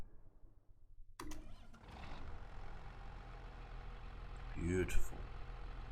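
A tractor engine in Farming Simulator 25 cranks and catches, then settles into a steady low rumble beneath a voice, with a brief rise in revs near the end.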